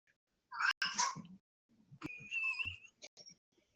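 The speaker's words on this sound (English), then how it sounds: "I'm trying to ignore my cat." A domestic cat meows indoors: two drawn-out, fairly loud calls about a second apart, followed by a few shorter chirping mews, with quiet gaps between them.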